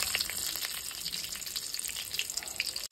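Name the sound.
black cumin and slit green chillies sizzling in oil for tempering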